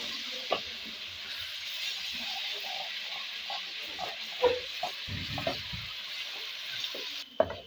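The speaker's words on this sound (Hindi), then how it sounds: "और इसको अच्छी तरह हम भून लेते हैं अदरक लहसुन के पेस्ट को।" Ginger garlic paste frying in a pan, a steady soft sizzle running throughout with occasional scraping and stirring knocks, close and fairly quiet, with no voices.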